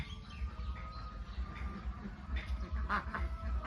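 Khaki Campbell and Yi Liang laying ducks, penned together in an old pig sty, keep up a steady stream of low, rapid quacks, close and busy, with no talking.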